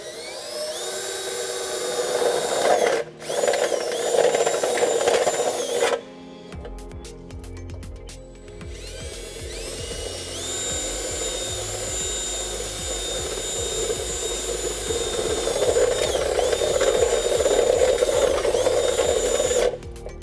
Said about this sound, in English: This is where we can drill using a 5/8 drill bit